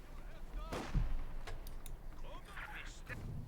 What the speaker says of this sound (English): Heavy mortar sitting up there in the snow.